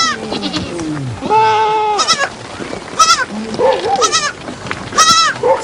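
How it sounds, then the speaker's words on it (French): A herd of about a hundred goats and eighty sheep in the Aït Atta mountains calls out in repeated wavering bleats, several overlapping voices close by over a low background murmur. "100 chèvres et 80 moutons,"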